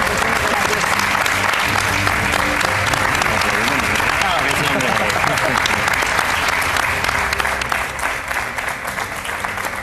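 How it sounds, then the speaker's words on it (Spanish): Sustained loud applause from a studio audience honouring Gandia firefighters, a dense steady roar of clapping lasting throughout and easing slightly toward the end. "un fort aplaudiment per a vosaltres"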